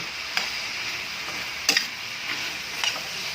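A spoon stirs sautéed green vegetables in a pan, a low background sizzle with three or four distinct scraping clinks spaced apart, close and moderately loud, no talking.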